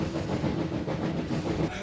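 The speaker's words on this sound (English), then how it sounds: "It's the most luxurious train in the world," The Royal Scotsman luxury steam train runs through Scotland, a steady dense rumble of rolling wheels and carriages with faint rhythmic clatter throughout.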